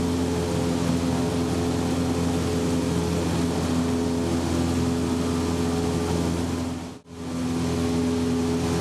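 Steady, loud drone of a light aircraft's piston engine and propeller at reduced power during a 90 mph cruise climb to 6,000 feet, broadband and continuous with a brief dip near the end.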